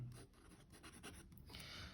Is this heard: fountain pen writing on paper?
yes